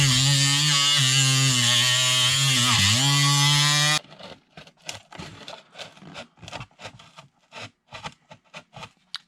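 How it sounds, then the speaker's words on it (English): High-pitched buzzing whine of a Dremel rotary tool with a cutoff wheel cutting into a small RC jet boat hull, loud and close with a dip in speed, then stops, leaving scattered scraping and handling sounds. "I'm just using my Dremel with a cutoff wheel and a sander"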